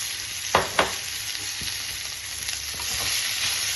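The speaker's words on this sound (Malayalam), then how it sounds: "ആ നെയ്ക്കകത്തോട്ട് നമുക്ക് അരിഞ്ഞു വെച്ച് ചക്ക ഇട്ട് കൊടുക്കാം." Chopped jackfruit drops into hot ghee in a pan and sizzles loudly at close range, with a couple of splashy bursts at the start and a steady frying hiss after.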